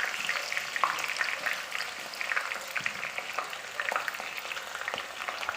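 Onions browning in a pan, a continuous fine crackling sizzle with scattered pops, steady and close, with no voices.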